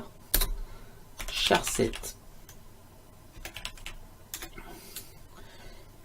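Someone types on a computer keyboard while entering HTML code, with sharp close clicks that come in short irregular bursts and scattered single keystrokes, under and between quiet talk.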